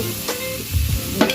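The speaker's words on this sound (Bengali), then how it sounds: "একে আবার ভালো করে নেড়ে ঢাকা দিয়ে দিতে হবে।" Bottle gourd with spices and green chillies being stirred in a frying pan, a close scraping stir over a light sizzle, with a couple of sharp utensil knocks near the end.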